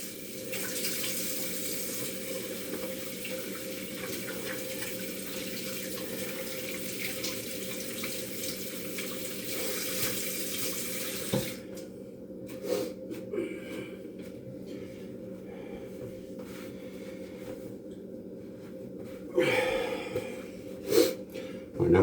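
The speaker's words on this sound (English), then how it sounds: "Wash my hands off real quick." Tap water runs steadily into a kitchen sink while hands are washed after handling pizza dough, a broad continuous splash for about eleven seconds before the flow stops, followed by quieter drips, handling noises and a few louder knocks.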